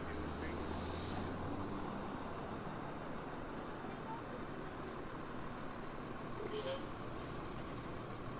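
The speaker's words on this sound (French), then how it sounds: "je vous filme le camion de pompiers" A fire truck rolls slowly past at a village fall festival in Longwood, Florida, its engine a steady close rumble mixed with roadway noise, with a brief hiss like air brakes and people talking nearby.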